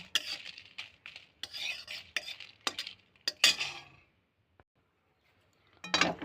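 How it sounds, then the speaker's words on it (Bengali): Dried red chillies frying in a pan, with a run of close scraping and clattering stirring strokes for several seconds, then near silence and a short final scrape. "তারপর শুকনো লঙ্কাগুলোকে একটু ভাজা ভাজা করে নেব।"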